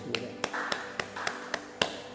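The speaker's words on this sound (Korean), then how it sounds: "하나님께 감사의 박수 드리겠습니다" Sparse, evenly spaced claps ring out in a church as the congregation gives thanks during a Sunday worship service, about seven sharp hand claps over a soft room hum with no talk.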